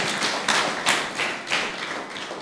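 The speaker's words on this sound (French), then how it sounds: "On applaudit le Seigneur." A French-speaking church congregation claps in praise, a soft, steady patter of many hands somewhat distant in the room, with a few louder swells, no voices over it.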